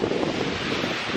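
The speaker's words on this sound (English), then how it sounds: "The wind gusts are like 35 to 45 miles per hour, and whoo, here's a gust right now." Strong wind gust from Hurricane Irma in Jacksonville, Florida, a steady broadband roar of blowing air with microphone buffeting, continuous and fairly loud throughout, with no talking.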